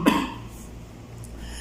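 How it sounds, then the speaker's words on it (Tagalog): A single dry cough from a person with a persistent cough, one short harsh burst near the start followed by quiet room tone. "Masyadong madikit yung ubo ko, ako'y ubo ng ubo"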